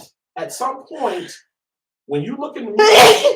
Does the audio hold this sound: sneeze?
yes